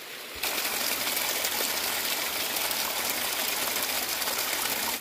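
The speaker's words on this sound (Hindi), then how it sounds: "गधेरे जो हमारे वीरान पड़े थे पिछले दिनों, तो उनमें फिर से पानी आ चुका है" Rain-fed mountain stream in the forested hills near Mukteshwar, with water rushing steadily down the channel in a close, continuous gush that holds without talk.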